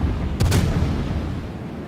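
Ship cannon fire in the naval battle game World of Warships, one booming shot rising sharply out of a loud, steady rumble of background battle noise, heavy and close.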